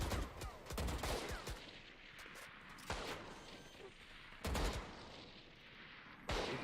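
Rapid gunfire bursts from the shooter game Valorant, sharp repeated shots in several clusters over a low game soundscape, with players talking now and then.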